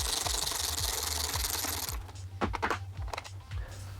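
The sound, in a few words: loosening and removing last fender bolt on Honda CBR 600 RR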